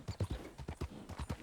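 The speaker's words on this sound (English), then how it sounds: "a cowboy rode by on his horse" Horse hooves in Red Dead Online clip-clopping at a steady walking rhythm, about a dozen distinct thuds over a second and a half, close and clear with no talking.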